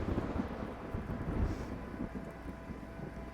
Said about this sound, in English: I just want to go inside where there's not the stupid thunder happening.